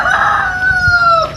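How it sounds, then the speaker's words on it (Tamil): A rooster crows in one long, loud, sustained call close by, at a small village guesthouse in the Solomon Islands in late morning just after light rain. "இப்போ கூவுது பாருங்க சேவல்"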